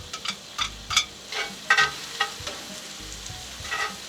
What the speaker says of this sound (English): these onions are going to fry off in all of those beautiful juices from the mince